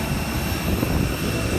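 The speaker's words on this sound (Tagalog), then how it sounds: "pasakay na tayo sa aeroplano" Aircraft engine at Sibulan Airport in Dumaguete, a steady broadband roar holding level throughout, heard from nearby without speech.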